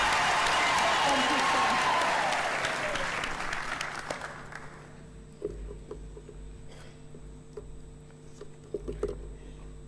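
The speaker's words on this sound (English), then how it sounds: "Can we give them another round of applause, please?" A graduation-ceremony audience applauds loudly in a dense wash of clapping that fades out after about four seconds, followed by a speaker talking briefly over quiet room noise.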